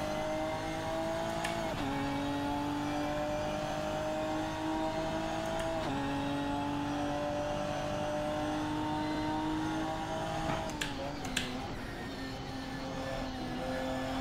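Sim-racing car in Assetto Corsa or RaceRoom with a steady high transmission whine over engine drone, pitch climbing through each gear then dropping at shifts, continuous and fairly quiet, with no talking.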